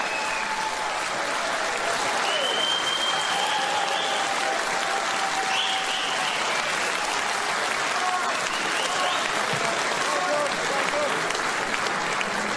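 A rally crowd in Sunderland, County Durham, cheering and applauding in a steady, loud wash of clapping that fills the whole stretch, with faint voices and whistles mixed in.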